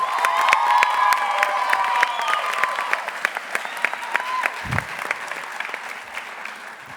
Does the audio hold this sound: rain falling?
no